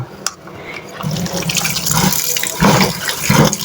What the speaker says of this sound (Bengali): এদিকে সেমাইটা কিন্তু আমি ধুয়ে নিব